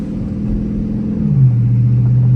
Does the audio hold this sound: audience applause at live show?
no